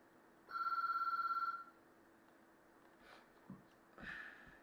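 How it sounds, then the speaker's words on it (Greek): A telephone rings indoors during a home livestream: one close, buzzy trilling burst of about a second, then quiet with a few soft sniffs and small noises. "Ωχ, τηλέφωνο."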